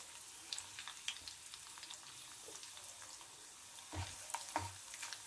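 Dried red chillies frying in hot oil for a raw mango chutney, a soft steady sizzle with faint crackles and a couple of louder pops near the end, no voices.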